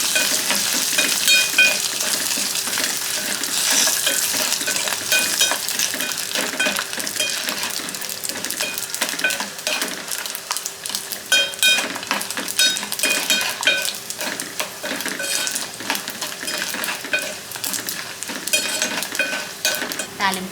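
Asafoetida and dried red chillies fry in a pan as a tempering for tamarind rice: a continuous bright sizzle with scattered clinks and stirring scrapes, close and alone without talk.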